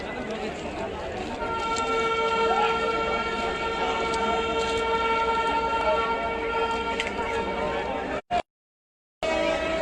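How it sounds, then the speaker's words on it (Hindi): A Nepal Railway train in Janakpur, painted red and blue, rolls past with steady engine and rail noise and sustained horn tones, under a voice, before cutting out near the end. "देखिए हॉर्न मार रहा है।"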